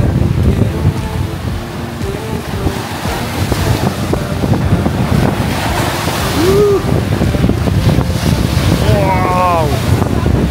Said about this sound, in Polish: Ale tam się woda rozbija.